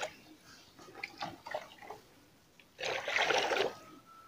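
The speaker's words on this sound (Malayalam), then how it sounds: "ഇനി നമുക്ക് ഇതിലേക്ക് ഒരു 3 ലിറ്ററോളം നമുക്ക് വെള്ളം ചേർത്ത് കൊടുക്കാം" Water is poured into a fertilizer mix of manure and oilcake, a soft trickle and splash that swells into a louder, close gush near the end, with no one speaking.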